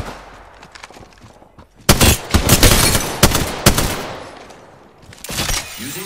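Gunfire in the Apex Legends battle royale game, sudden loud bursts of rapid automatic shots and single cracks in close clusters over a quieter background, no voices.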